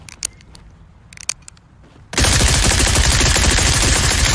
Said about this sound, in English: SBR, short barreled rifle.